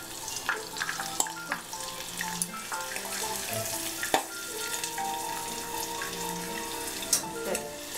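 Seaweed-wrapped scallop tempura frying in hot oil, with a steady soft sizzle and crackle and occasional sharp pops, faint and continuous with no talking.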